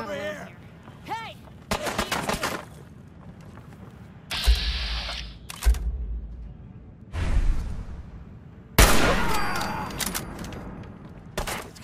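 Gunfire in Fallout 4 comes as several separate sharp bursts spread through the stretch, each a loud crack with a short rumbling tail, with shouted voices and whooshes in between.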